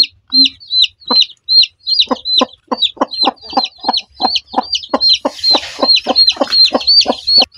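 A mother hen clucks near newly hatched chicks, giving a steady, close series of about twenty short clucks in a regular rhythm. Each cluck has a rising chirpy edge, and a soft rustle is heard near the end.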